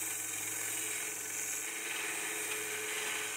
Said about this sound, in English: I use this Vivor belt sander to sand away the perimeter of the cross